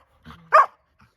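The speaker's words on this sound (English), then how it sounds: "Hopefully you can hear me over the dogs." Dogs on a homestead bark in short bursts, a softer yip and growl followed by one loud close bark and a faint trailing yelp.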